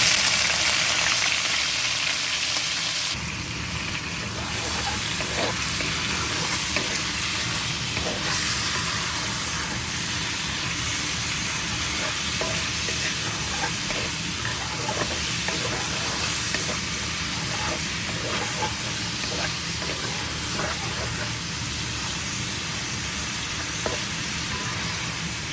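Shrimp fry in about two tablespoons of oil in a pan, a steady close sizzle and crackle that runs throughout, with light stirring scrapes and no talking.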